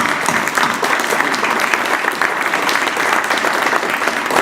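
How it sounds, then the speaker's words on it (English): A crowd at a building dedication ceremony claps in steady, dense applause that holds at an even level for several seconds. "stand and let us again clap for you"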